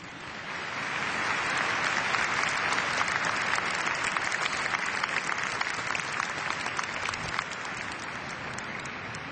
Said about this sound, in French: Et merci, on peut applaudir les enfants en particulier.